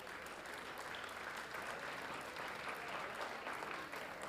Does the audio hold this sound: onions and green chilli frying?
no